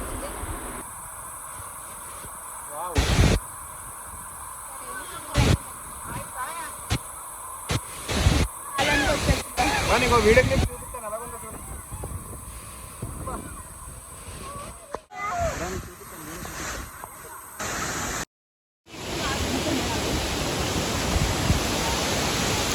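Pittalaborra Tarabu waterfall near Vizag pours in a continuous broadband rush of water, alternating with bursts of wind buffeting and handling noise, then a steady roar at the end.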